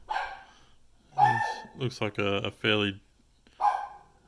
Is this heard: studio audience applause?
no